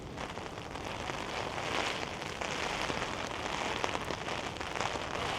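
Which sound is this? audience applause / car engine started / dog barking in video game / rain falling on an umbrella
rain falling on an umbrella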